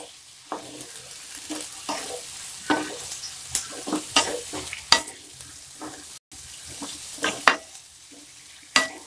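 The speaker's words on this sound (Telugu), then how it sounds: "దీన్ని మనం బాగా కలుపుకోవాలి." Ivy gourd (dondakaya) pieces being stirred with salt in an oiled pan, a steady soft sizzle broken by frequent scraping, clattering stirs at close range, with no talking.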